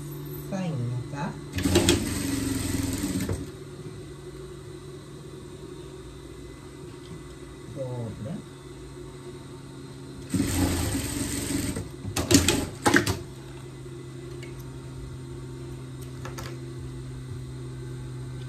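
A sewing machine stitches the hem of a small pet dress skirt in bursts of rapid whirring, with quiet pauses and faint handling between runs and a voice speaking softly throughout.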